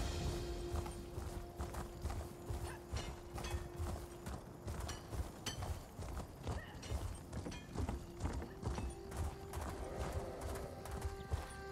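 Steady clip-clop of horse hooves at a riding pace in Elder Scrolls Online, close and continuous with faint in-game ambience underneath and an occasional whinny.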